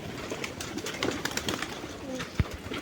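Pigeons coo nearby in soft, repeated throaty calls over a faint background, with one brief sharp knock partway through.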